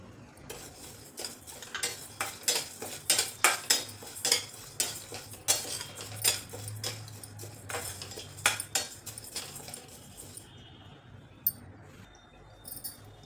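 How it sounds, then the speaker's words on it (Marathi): Moong and urad dal dry-roasting together in a pan for traditional metkut, heard as a steady run of light scraping and clinking from stirring against the metal, busiest in the middle and thinning out toward the end, with no talk. "मूग डाळ आणि उडीद डाळ दोन्ही एकत्रच भाजायचं"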